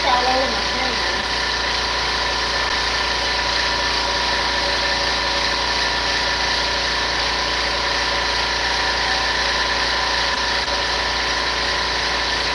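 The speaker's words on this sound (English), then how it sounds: "So I must be losing pressure for the compressor to come on so quickly." An air compressor runs continuously beside a DTF transfer press, a loud, steady mechanical hum and whine with no pauses throughout.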